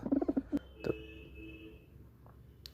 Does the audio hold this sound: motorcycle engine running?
no